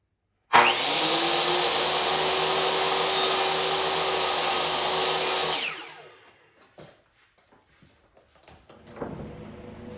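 A DeWalt power saw whines loudly through wood for about five seconds, then winds down and stops. Faint clatter and handling noises follow in a quieter room.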